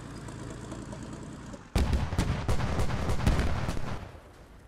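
Gunfire and explosions sound in Squad as Russian forces storm a building in close indoor combat: a quiet stretch, then sudden loud bursts of rapid shots and blasts, close and dense, over rumbling reverberation.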